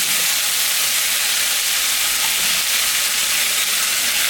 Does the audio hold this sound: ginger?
yes